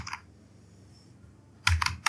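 Keys clatter on a computer keyboard while code is typed, a short burst of clicks at the start, a quiet pause, then a quick close cluster of keystrokes near the end.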